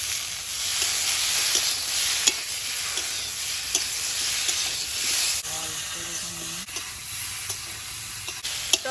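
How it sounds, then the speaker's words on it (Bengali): Chopped tomato hitting a pan of frying ginger and green chilli, loud steady sizzle with stirring scrapes, the hiss shifting as the tomato goes in partway through. "আদা কাঁচা লঙ্কা ততক্ষণ পর্যন্ত টমেটো কুচি এবার দিয়ে দেবো"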